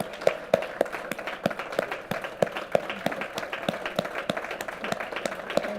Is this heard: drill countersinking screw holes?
no